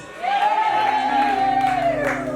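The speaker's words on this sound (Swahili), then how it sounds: "Vigelegele kwa Yesu." A church congregation in Tanzania ululates for Jesus, a loud, sustained high warbling cry carried over a crowd's cheering and clapping, holding steady for a couple of seconds before fading.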